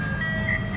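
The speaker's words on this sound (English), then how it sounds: "Here comes the ice cream man." An ice cream truck jingle plays nearby, heard as a short melodic chime over a low engine rumble.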